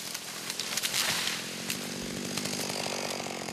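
An electric chainsaw cuts through a thick tree at a logging site. The engine buzzes steadily up close, with louder gritty surges as the chain bites into the wood.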